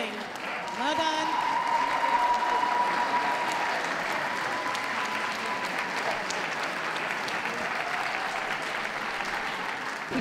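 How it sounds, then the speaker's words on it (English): Spectators at a dog show clapping as Bull Mastiffs and Great Danes leave the ring, a steady round of applause from a sizeable crowd, with brief voices and a few whistles or calls mixed in early on. "Please give a round of applause for those leaving the ring."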